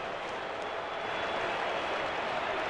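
A stadium crowd in the Rugby League 26 video game roars after a try, a steady broadband wash of cheering and applause at moderate-to-low level that holds throughout without talk.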